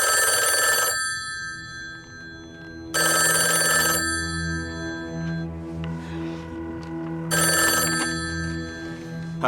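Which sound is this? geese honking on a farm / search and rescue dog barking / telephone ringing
telephone ringing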